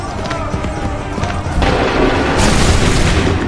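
Musket volleys in Assassin's Creed 3, a loud crackling boom of massed gunfire that swells and holds near the end, with shouted commands heard before it.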